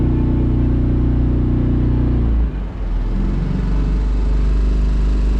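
A small carp fishing boat's motor runs steadily at about half throttle, a loud continuous low drone with a brief dip partway through before settling back into the same even cruising hum.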